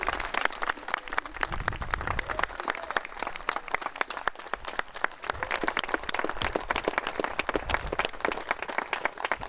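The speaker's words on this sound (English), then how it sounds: "Let's give a hearty round of applause to the creator of this stamp" Hearty applause from an audience honouring a local Hilo stamp artist, steady dense clapping that fills the whole stretch, close and continuous with a crowd murmur underneath.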